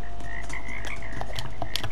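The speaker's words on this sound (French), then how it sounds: "C'est des grenouilles empoisonnées." Poison frogs croak in a haunted-manor escape game in Roblox, giving a steady run of short repeated calls over a constant low hum, with no talk.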